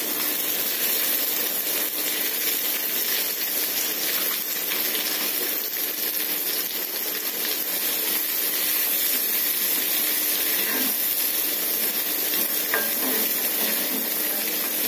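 Onion fries with bay leaf in mustard oil, giving a loud, continuous, dense sizzle with occasional clinks of stirring and no voices.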